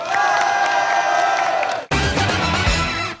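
A crowd at a convention stage show cheers and claps for a contestant, loud whoops and shouting over applause, then a sharp cut into a burst of music and more crowd noise.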